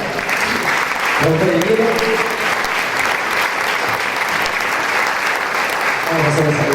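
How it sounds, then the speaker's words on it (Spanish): Audience applause fills a small indoor event where playwrights meet the public, a dense and steady clapping that lasts throughout, with a voice speaking over it near the start and again at the end. "vamos a dar un aplauso también para"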